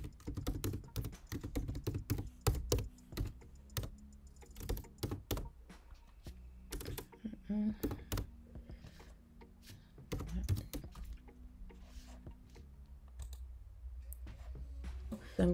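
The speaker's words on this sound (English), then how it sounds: "Go over here to text again and I'll type in what I want." Close, quiet typing on a computer keyboard, with rapid irregular key clicks that come in bursts and pauses.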